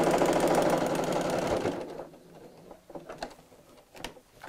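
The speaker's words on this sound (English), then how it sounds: "Right, back down, final side here, and then we'll sew these two together." A sewing machine runs fast for over a second, stitching bag layers of fabric with batting and wadding for a double zip pocket bag, then stops, leaving a few soft clicks and handling sounds.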